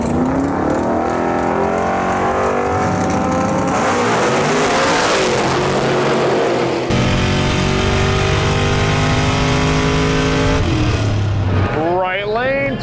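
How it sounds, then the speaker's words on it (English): Drag race cars blast down the strip in round two of an Alberta drag racing event, a loud continuous engine roar that shifts pitch as they pass, with tire or engine whine near the end. "Right lane, Tony Politano getting the win"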